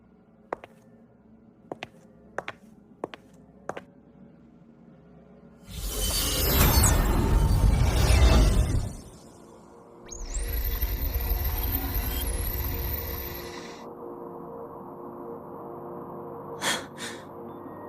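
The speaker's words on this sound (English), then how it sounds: "sounds like white noise." Broadband static hiss from a cassette playing back in the Wuthering Waves game, in two loud bursts of about three seconds each, the second topped by a thin high whine, with soft clicks before and after.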